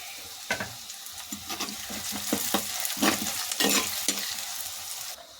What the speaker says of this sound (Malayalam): ഇനി നമുക്ക് കുറച്ച് ഉപ്പ് കൂടി ഇട്ടിട്ട് നന്നായിട്ടൊന്ന് വഴറ്റിയെടുക്കാം.